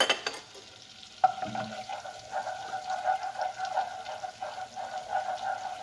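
Faint sizzling as butter melts in a pan, a soft steady crackle with light stirring, quiet and close.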